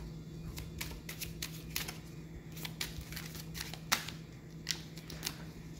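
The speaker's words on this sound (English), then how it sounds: "I'm gonna get one more good shuffle" Tarot cards being shuffled by hand produce soft, quiet riffling and flicking bursts in an irregular rhythm, close by and low in level with no speech.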